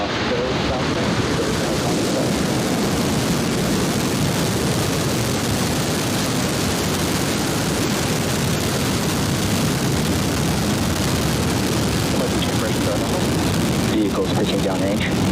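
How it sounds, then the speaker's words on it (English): Rocket engine ignition and liftoff heard as a loud, continuous broadband roar that crackles and rumbles for the whole stretch, with a countdown voice audible early on. "T-minus 10, 9, 8, 7, 6, 5, 4, 3, 2, 1. Ignition"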